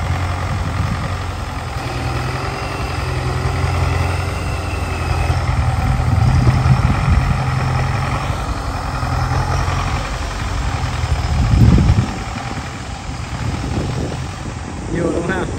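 A Belarus 925 tractor with a 100-horsepower Belarus diesel engine runs steadily in a cornfield setting at Ben Cau, a low continuous rumble that swells briefly near the end, with someone talking intermittently over it.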